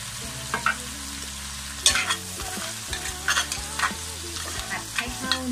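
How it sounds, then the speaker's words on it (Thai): Crab stir-fried in a wok with curry powder and fresh milk, a continuous low sizzle broken by repeated sharp clanks and scrapes of the spatula against the pan, close up with no voices. "ผัดให้เข้าเนื้อกันนะคะ"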